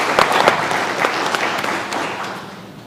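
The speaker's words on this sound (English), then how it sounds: "So I want to give them a real quick round of applause because they deserve that." Audience applause fills a school auditorium, a dense steady clapping from a crowd that holds strong for a few seconds before easing slightly.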